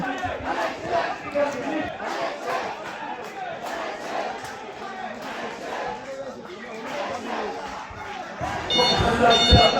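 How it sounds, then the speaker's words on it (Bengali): A crowd marching in a BNP political procession, carrying paddy-sheaf symbols through a rural market street in Ullapara, Sirajganj, chants in loud rhythmic bursts, with shouting voices and chatter between calls. "বাজারের চারিদিকে রাস্তা থেকে ধানের শীষের মিছিল নিয়ে সবাই চলে আসতেছে"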